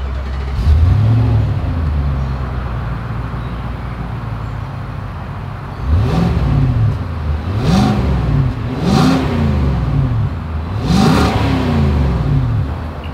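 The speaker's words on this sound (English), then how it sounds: "As always, here is that exhaust clip." A 2022 Nissan Armada SUV's exhaust revs repeatedly, several sharp rising and falling blips after a short initial rev, loud and close with a rumbling idle between.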